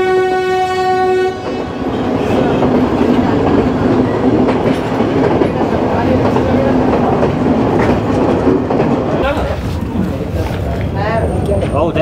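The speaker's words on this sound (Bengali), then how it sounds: "ওপাশেরটা সেম ট্রেন, দেখা যাক কোনটা আগে ছাড়ে" Train pulling away from a station at Nanu Oya in the Sri Lankan hills, opening with a sustained horn blast that gives way to a steady rumble and clatter of carriages, with a voice talking briefly near the end.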